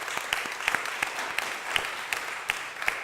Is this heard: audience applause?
yes